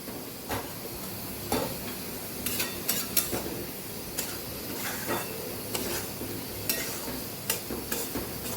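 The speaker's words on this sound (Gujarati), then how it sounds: "માત્ર શેકાય જ જાય અને ખુશ્બુ આવે ત્યાં સુધી જ આપણે રવાને શેકવા શેકવાનો છે" Semolina (rava) roasts in ghee while being stirred, giving a soft steady hiss and sizzle with scattered scraping clicks from the spoon at an irregular rhythm, close and moderately quiet.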